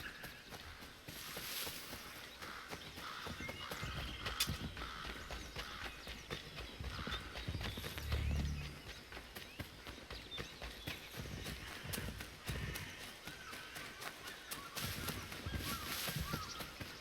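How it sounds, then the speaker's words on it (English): Horse hooves clip-clop steadily through a busy, noisy game soundscape in Assassin's Creed 3, the rhythmic footfalls fairly quiet and partly masked by ambient outdoor sound. "My horse is tailing me."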